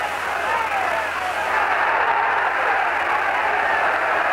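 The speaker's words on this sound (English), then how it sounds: "This crowd is alive" Large crowd roaring and cheering at an outdoor boxing stadium in Puerto Rico during a downpour, a dense steady wash of voices and applause continuing throughout the few seconds.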